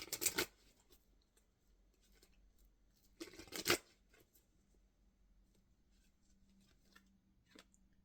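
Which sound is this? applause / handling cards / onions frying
handling cards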